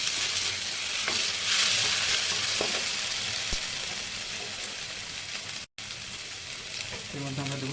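Ginger garlic paste frying with onion in a pan, a steady close sizzle with occasional stirring scrapes, loud at first and easing slightly, briefly cutting out near the end.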